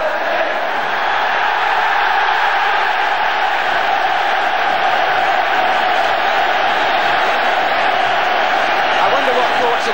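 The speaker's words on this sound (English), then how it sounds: "any moment now, the players will be greeted by this vast and expectant crowd" Huge stadium crowd at the 1977 FA Cup Final between Manchester United and Liverpool, awaiting the players: a loud, constant roar of cheering and chanting that fills the whole stretch without letting up.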